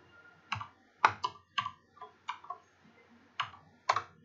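Keys clack on a computer keyboard in a quiet room, about nine separate sharp taps in an uneven rhythm, close and clear with no talk.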